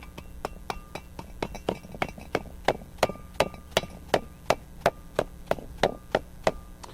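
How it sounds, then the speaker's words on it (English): Repeated sharp dead blow hammer taps seating a seal during a brake job on an 87-93 Ford Mustang, about two or three per second, strike steadily and close by with no talking over them. "we'll tap it into place with a dead blow hammer"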